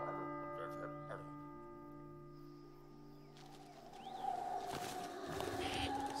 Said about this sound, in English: So there's the bird.